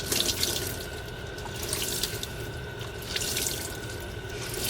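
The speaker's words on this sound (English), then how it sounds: "we just want to keep on running the water" Cool water runs steadily from a tap over tie-dye fabric, a loud, continuous splashing rush with brief swells as the fabric is moved and squeezed under the stream.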